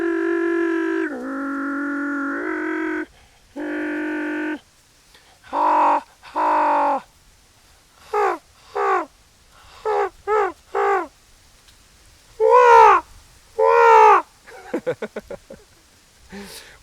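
A human voice imitates a growly animal call from the back of the throat, giving a series of short, harsh bursts separated by pauses, close and clear with no other sounds.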